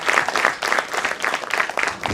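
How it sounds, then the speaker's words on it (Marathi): An audience at a book launch ceremony for a music book applauds with brisk, dense clapping that pulses in a few waves, close and lively, with no talk over it. "या सगळ्यांसाठी पुन्हा एक जोरदार टाळ्या."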